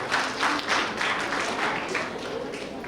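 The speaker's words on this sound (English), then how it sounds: "We'll give a round of applause" A middle school awards ceremony audience gives a round of applause for winning students, a moderately loud, steady patter of many hands clapping that swells slightly in pulses, with some voices underneath.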